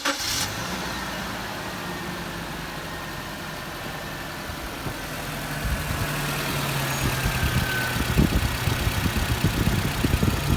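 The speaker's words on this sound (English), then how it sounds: "We're going to fire it up and see if we can blow this engine up." Suzuki Jimny engine cranks and fires after a fan belt and power steering belt replacement, then settles into a steady mid-pitched idle that grows slightly louder and rougher toward the end.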